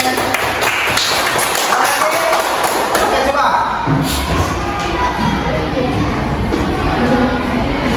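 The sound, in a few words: students applauding in classroom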